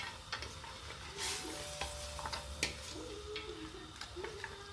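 Spices for Moroccan harira are stirred in a pot in a connected Fagor cooker, with faint sizzling under light scraping and occasional clinks of the utensil.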